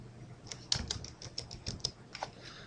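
Quick, light clicks of computer keyboard typing while entering a message in Excel 2010, an uneven patter of keystrokes close by in a quiet room.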